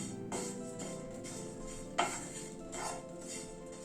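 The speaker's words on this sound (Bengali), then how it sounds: "ওটসটাকে হালকা করে ড্রাই রোস্ট করে নেব" Oats dry roasting on a hot tawa, stirred with a utensil that scrapes and clinks against the pan in repeated strokes, with one sharper knock partway through; close and fairly quiet, no talking.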